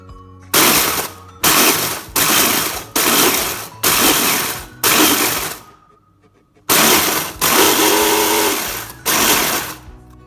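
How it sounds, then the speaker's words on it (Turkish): A food processor chops cornflakes for a crispy chicken coating in short, loud pulses, about seven bursts of whirring blade noise separated by brief pauses, close and clear with no talk. "Mısır gevreğini arkadaşlar çok ufak olmayacak şekilde rondadan geçiriyorum."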